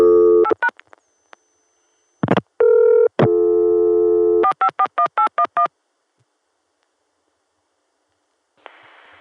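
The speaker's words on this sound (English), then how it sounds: "I'm calling 454-1811 on our original Atlanta dial tone." Telephone signalling on a 1981 CCSA network line: a burst of dial tone, a short run of touch-tone DTMF digits, steady tones, then a rapid series of evenly spaced beeps before the line falls silent and faint carrier hiss appears.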